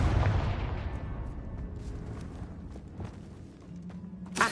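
A fiery Confringo spell blast in the Hogwarts Legacy video game opens with a loud, deep boom, then fades into a rumbling low tail with scattered smaller impacts and a sharp hit near the end.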